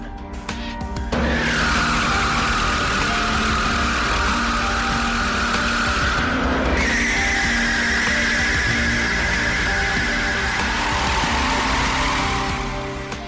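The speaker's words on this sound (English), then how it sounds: "The tyres are thoroughly tested by the appropriately titled tyre torture machine." A tyre torture machine spins a Bugatti Veyron tyre under load, giving a loud, continuous rushing roar with a sustained squealing whine that briefly drops out and returns at a higher pitch.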